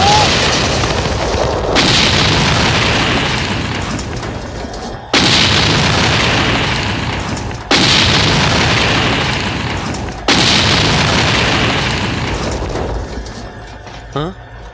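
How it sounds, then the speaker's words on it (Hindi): Vehicles blow up in a movie scene, four heavy booms in a row, each a loud sudden blast that trails off into rumbling debris before the next one hits. "अरे ये क्या, हमारी ही गाड़ियाँ उड़ गई?"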